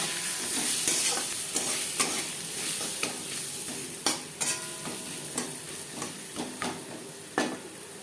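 Potatoes fry in a pan with turmeric and salt, a steady close sizzle running throughout with repeated sharp scrapes and clatters of a spatula stirring them.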